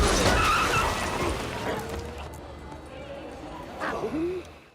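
Car skidding in an action film, tyres squealing loudly at the start and fading, followed by a short squeal and rough impact noise toward the end.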